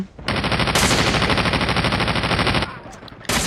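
Sustained machine gun fire in a Call of Duty battle, a dense rapid burst running nearly three seconds loud and close, then cutting off briefly before another burst starts.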